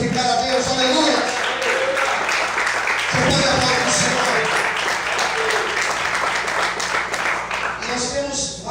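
A church congregation applauds steadily through a sermon, with dense, sustained clapping under a preacher's voice that speaks over it and fades slightly toward the end.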